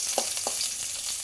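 Chopped garlic and small-cut green chillies sauté in hot oil in a pan with a steady close sizzle and a few soft stirring taps, with no talking.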